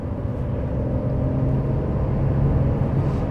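A 2008 Ferrari 599 GTB Fiorano with six-speed manual gearbox idles smoothly, a steady low engine rumble heard from inside the car, even and continuous without revving or talking.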